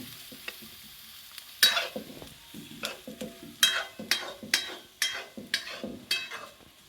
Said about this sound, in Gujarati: જુઓ તેલ બેલ ગરમ થઈ ગયું ને અંદર આપણે નાખી દીધું ડુંગળી, મરચો, ટમેટો